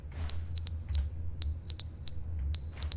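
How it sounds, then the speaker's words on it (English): Electronic alarm ringing in the video game The Stanley Parable: loud, piercing repeated beeps in three clustered bursts of two or three tones each, separated by short gaps, over a low background hum. "Is that an alarm?"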